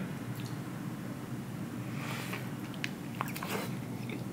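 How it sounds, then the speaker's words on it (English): Close, soft bites and squishy chewing of a carne asada taco dressed with squeezed lemon at a San Jose taco spot, with a few crisp crunches standing out over steady restaurant background noise. "First bite."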